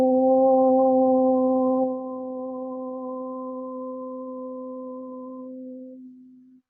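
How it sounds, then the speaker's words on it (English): A group chants a single sustained Om to open a yoga class, a steady resonant drone with overtones that swells at the start, softens after two seconds and tapers away as voices drop out one by one. "We'll open with the sound of Om."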